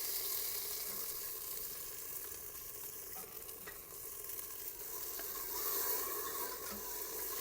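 Tomatoes and green chilies sizzling in a pan with onions and garlic, a soft continuous fry with scraping stirs throughout, fairly quiet and close, no voices.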